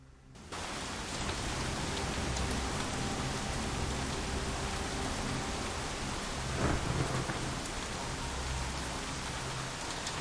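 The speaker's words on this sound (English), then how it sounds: "The storm is loud, practically deafening. Periodic thunderclaps roar like distant cannon fire" Heavy rain hisses steadily in a video game thunderstorm, with a low rumble of thunder rolling through midway; no voices, continuous and loud.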